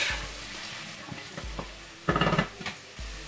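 Mushroom biryani masala stirred in a pan, a spoon scraping and clinking against the metal in several separate strokes over a faint sizzle, close by, with no talk.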